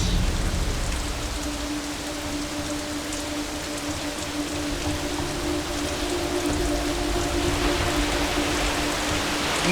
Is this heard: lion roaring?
no